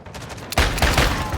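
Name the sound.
double pistol gunfire in Call of Duty video game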